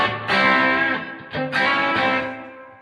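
Heavily distorted electric guitar chords through a stacked boost and overdrive pedal on a Blackstar amp ring out with thick overdrive and sustain, struck a few times and left to ring and decay.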